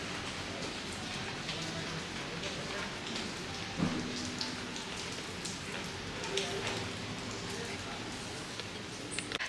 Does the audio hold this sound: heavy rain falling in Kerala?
yes